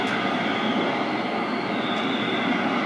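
A train rumbles steadily in a news report about a runaway train disaster that killed town residents, a dense continuous roar of rolling rail cars with no talk over it.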